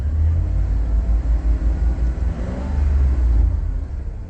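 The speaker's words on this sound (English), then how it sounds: "And so if you rev it up a little bit," A parked Ford truck engine idling with a heavy low rumble that swells briefly as it is revved a little, steady and close with no voices.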